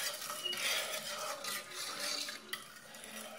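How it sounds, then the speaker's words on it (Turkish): A spoon stirs a cup of sugar into fresh daily milk in a pot, giving a soft continuous swishing and scraping with faint metallic touches, fairly quiet and without any voices. "İçerisine bir su bardağı şekerimizi döküyoruz arkadaşlar. Karıştırmaya başlıyoruz"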